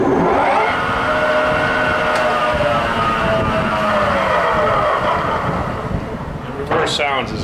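Goodway GW1660 gap-bed metal lathe running at speed 1020, a steady broadband mechanical whir with a continuous drone, fairly loud throughout, with a brief clatter near the end.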